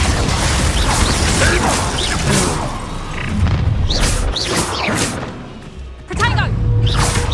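Glacius ice spells cast again and again in Hogwarts Legacy combat: repeated booming thuds, whooshes and crackling impacts in a dense, busy mix, with a voice calling out spell names throughout.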